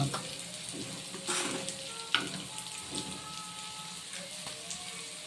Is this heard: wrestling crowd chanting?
no